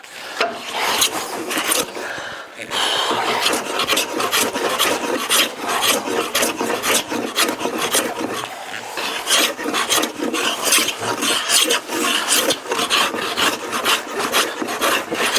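A hand plane is pushed along an oak post in long repeated rasping strokes, close and fairly loud, with a steady rhythm and brief gaps between passes and no talk.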